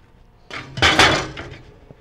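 Metal grill grates from a Yoder YS640 pellet grill clank and rattle as they are handled: a short, close, bright metallic clatter peaking sharply, then ringing out.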